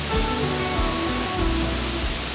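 A waterfall in Guartelá canyon, Brazil, gives off a steady, loud, full roar of falling water, broad and unchanging throughout with no voices.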